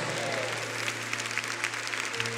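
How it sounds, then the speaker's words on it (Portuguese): A church congregation applauds during a Catholic prayerful Bible reading, a steady wash of many hands clapping, fairly faint and distant, with a voice speaking over it. "Aplauda mesmo com força a palavra de Deus."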